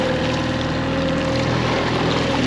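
A motorboat engine drones steadily across open water on a salmon fishing trip out of Milwaukee, giving a continuous hum with some wind and wave noise.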